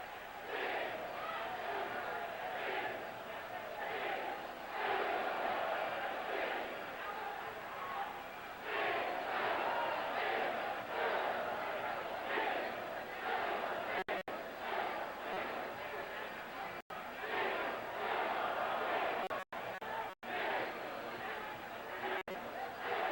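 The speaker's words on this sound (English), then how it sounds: "We hear the crowd react with every knee strike." A packed Muay Thai fight crowd roars and chants in repeated surging waves, a dense continuous wall of cheering that swells with each knee strike, with a commentator's voice faintly over it.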